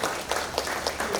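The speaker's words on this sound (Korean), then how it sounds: "큰 박수 부탁드리겠습니다" Audience applause at the opening ceremony of an international photo festival in Incheon, a short burst of brisk, fairly close clapping with distinct individual claps and no talk.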